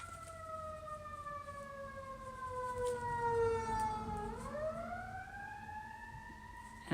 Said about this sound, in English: I hear sirens going off.